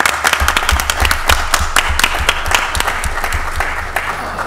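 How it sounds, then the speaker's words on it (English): A city council meeting audience in Mobile, Alabama gives a veteran a big round of applause, dense, loud clapping filling the room throughout with sharp individual claps standing out. "Let's give him a big round of applause."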